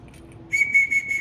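An archery range stop command, five or more blasts: a sharp whistle sounds in quick repeated short blasts, loud and close, with no talk over it.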